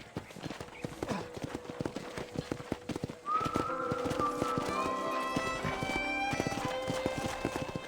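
Horse hooves clip-clop in a steady rhythm in the video game Red Dead Redemption, joined midway by a louder whinny and tonal background sounds, with no speech.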